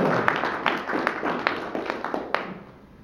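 An audience at a data science meetup claps for a presenter, a light, scattered round of hand claps that thins and fades out after a couple of seconds.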